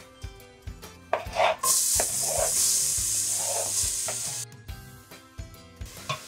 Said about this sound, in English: I'm gonna be sauteing this for about 3 minutes or so